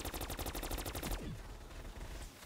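Someone fires a UGR rifle in Black Ops 3 custom zombies: a fast burst of close, loud rapid shots, evenly spaced, stops after about a second and leaves a fading echoing tail.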